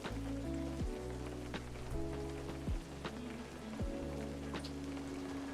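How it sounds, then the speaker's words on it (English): Rain falling in the fishing video game Webfishing, a steady patter of drops mixed under game music with a repeating melodic line, continuous throughout. "it's still raining"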